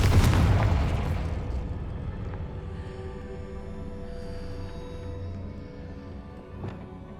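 Confringo fire-blast spell from Hogwarts Legacy going off as one loud, booming explosion up close, then a long rumbling decay with a faint crackle near the end.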